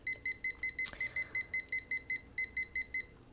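A kitchen timer beeps in a fast, even series of short high-pitched tones while being set for a soup recipe, about a dozen crisp beeps close to the microphone with one brief gap and a small click.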